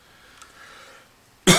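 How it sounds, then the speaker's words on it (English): A single short, sharp cough bursts out loud and close after a moment of near silence. "Sorry about the cough."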